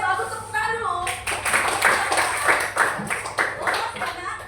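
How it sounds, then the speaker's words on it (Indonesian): Classroom applause: a short burst of hand clapping rises after a teacher's voice and continues as scattered, uneven claps over murmuring students. "bagus, tepuk tangan dulu"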